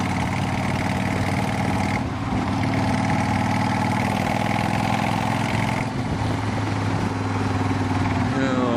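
Motorcycle engine running steadily while out riding on a mild day, a continuous close drone with a low throbbing hum throughout, no talk over it.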